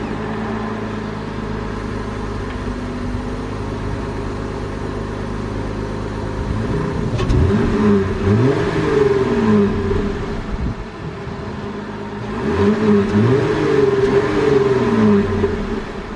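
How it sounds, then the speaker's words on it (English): A Jeep JL Wrangler on its stock exhaust idles with a steady low rumble, then revs twice in rising and falling sweeps, each rev a few seconds long and separated by a return to idle. "I'm gonna get a before sound clip of the stock exhaust"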